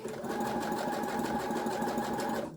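A sewing machine stitches elastic onto knit fabric in one continuous, close, fast-running burst that stops abruptly at the end.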